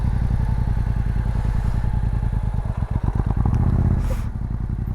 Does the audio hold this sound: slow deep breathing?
no